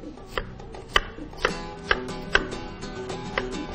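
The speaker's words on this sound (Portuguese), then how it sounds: "e vou cortar quadradinhos dessa cebola, ok?" An onion being cut into small cubes on a cutting board, with a steady series of crisp knife taps about twice a second, close and clear over faint room noise.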